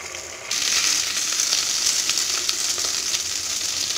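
Tomatoes sauté in sesame oil in a clay pot for a sour-greens dish, a loud, dense sizzle that starts abruptly and keeps crackling steadily with light stirring scrapes.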